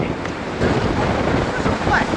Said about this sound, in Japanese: もっと波の穏やかな日に来たかったな